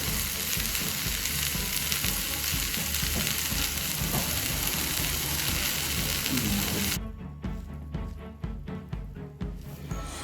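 Oats uthappam sizzling loudly on a hot pan, a dense steady hiss that suddenly drops after several seconds into quieter crackling with a few scraping knocks as it is flipped.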